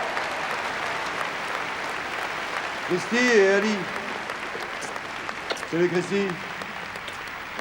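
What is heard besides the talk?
audience applause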